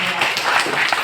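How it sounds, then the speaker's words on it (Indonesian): Brief burst of applause from a seated audience at an indoor coaching seminar, short and moderately loud, with a voice partly over it. "Bapak Ibu tepuk tangan untuk Bapak Ibu"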